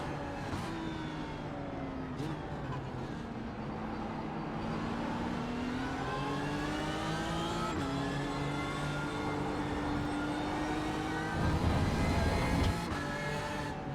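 GT3 race car engines roar in iRacing at the Hockenheim circuit, a close, loud engine rising in pitch through each gear before quick shifts drop it again, with a brief rumble near the end.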